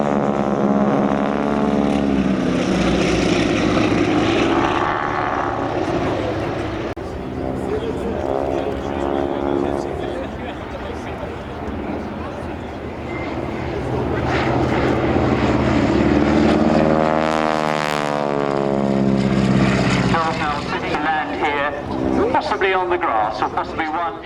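A propeller aeroplane with a bulky nose flies at the Shoreham Airshow, its engine droning loud and near with rising and falling pitch as it passes, while a commentator talks over it.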